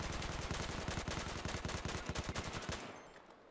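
A Battlefield 4 multiplayer weapon emptying its magazine in one long, loud, rapid automatic burst that stops near the end and leaves a fading tail.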